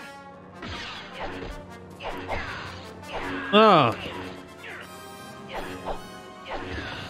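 Lightsabers clash in a Star Wars video game, a run of sharp smashing hits and swishes spread through the scene, with one louder crash near the middle, while players talk and exclaim over the action.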